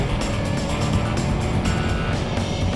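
A Mazda MX-5 and a VW Golf R accelerate flat out side by side in a drag race, their engines producing a loud, dense, continuous roar with a steady, full-throttle drone throughout.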